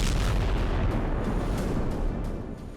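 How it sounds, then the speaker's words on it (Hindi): A bomb blast destroys a tunnel under Al-Shifa hospital, a massive broadband roar that hits at full loudness and rumbles on heavily for a couple of seconds before starting to fade. "सुरंग को बम विस्फोट से तबाह किया।"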